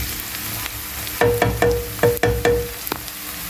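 Onion and yogurt mixture frying in a pan, a steady sizzle joined by a series of sharp, close scraping stirs in a quick irregular rhythm, with a few clinks of the utensil against the pan.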